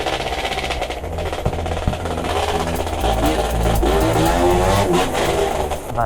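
A Vespino moped's loud exhaust buzzes close by, holding a steady rasping drone that rises in pitch and intensity as it accelerates, alone without voices.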